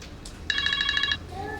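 A phone rings indoors, a single electronic trill of repeated pulses lasting under a second, fairly close, followed by a fainter tone.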